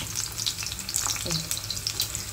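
Food sizzles steadily in a hot wok, a continuous close frying hiss with a few faint stirring clinks and no voices.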